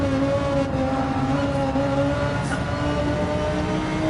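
Audi and BMW Group 3 race cars lapping the Sardegna circuit in a sim racing game, a steady high engine whine held at speed with a faint tire squeal, close and continuous without talk.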